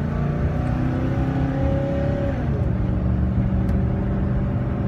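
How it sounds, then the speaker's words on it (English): A 2002 Ford F250 XLT SuperCab 4x4 with a 5.4 V8 and five-speed automatic drives with a loud, steady engine drone and one audible gear shift partway through, with no talk. "As you see, shifts correctly, vehicle drives straight, actually handles the bumps really well."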